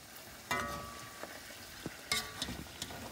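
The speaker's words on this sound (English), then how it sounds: "We're going to get this into a frying process again." Oxtail sizzles and crackles in a hot pot, with a steady frying hiss broken by a few scraping stirs and clanks.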